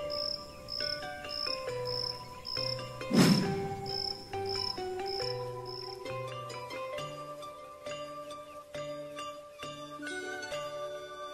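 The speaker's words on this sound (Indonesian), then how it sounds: "suara jangkrik malam terdengar nyaring" Crickets chirp at night in steady repeating bursts over soft sustained musical tones, with a brief whooshing swell early on.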